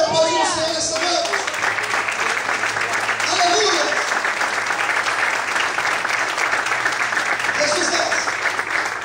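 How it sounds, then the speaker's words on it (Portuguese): A church congregation applauds steadily and loudly throughout, a dense continuous wash of clapping with cheers, while a pastor speaks over it at the start and end. "Você pode aplaudir o Senhor nessa noite?"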